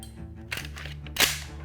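A Hobby Fix model gun's trigger is pulled, giving two sharp mechanical clicks about half a second apart over a low background hum.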